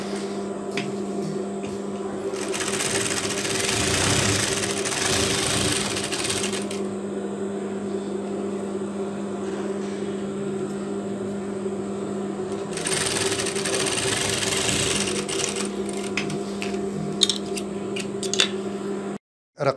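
A sewing machine stitches a half double-breasted Turkish coat, running steadily and close up for most of the stretch with a pause in the middle, then stopping near the end.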